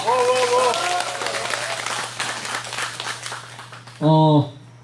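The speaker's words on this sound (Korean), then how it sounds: "모아서 박수 한 번 더 부탁드립니다." A crowd at a weekly Wednesday rally against the THAAD deployment in Soseong-ri applauds, the clapping starting out mixed with voices and then fading, before a short loud burst of talk near the end.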